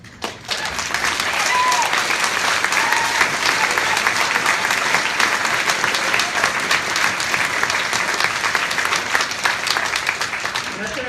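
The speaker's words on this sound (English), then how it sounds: "thanks for clapping." A large audience at a book event with an author talk in a music venue breaks into sustained applause, a dense, even wash of many hands clapping that swells quickly and holds loud for about ten seconds.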